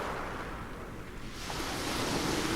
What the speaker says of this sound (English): The sound of the waves mingles with the light breeze that caresses your face.